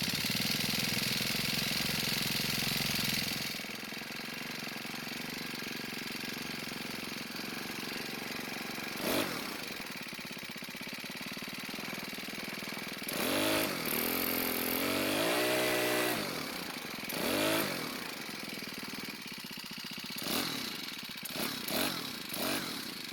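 Cub Cadet 4-cycle string trimmer engine running steadily at a raised idle, a loud close buzzing drone with a few revs and uneven surges toward the end.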